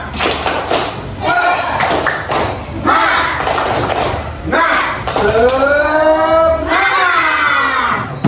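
Schoolchildren in a classroom repeat a patterned spirit clap, rhythmic clusters of claps and thumps under loud group chanting and shouts.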